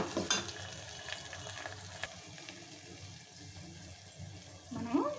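Thinly sliced green chillies are stirred in a hot pan for a bottle gourd curry, giving a soft sizzle under scraping strokes with a louder clatter near the start and end.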